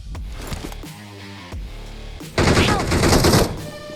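DP light machine gun fire in the mobile battle royale game BGMI: bursts of rapid gunshots, loudest in a dense close burst late on, mixed with other game sounds.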